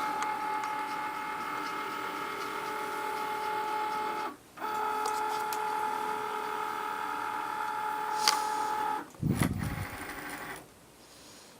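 A Cricut Maker cutting machine pulls a fabric mat in with a steady motorized whir and faint mechanical clicks, pausing briefly partway, then ending with a short louder burst of rollers and a clunk.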